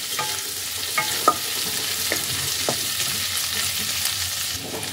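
Chopped ginger and garlic fry gently in oil for chilli paneer, a steady close sizzle with a few light clicks of stirring and no voices.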